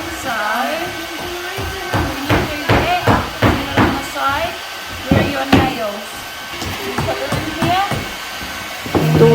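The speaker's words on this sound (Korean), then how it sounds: "그리고 또 익숙하지 않은 망치질을 접한다." Hammer strikes in a New Zealand primary-school class during spring break, a series of sharp irregular knocks repeating through the span under busy classroom noise and children's voices.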